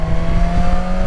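A BMW S1000 XR HP 2019 sport-touring motorcycle engine hums with a steady, sustained note and a rough low-end rumble, close and fairly loud, with no voices.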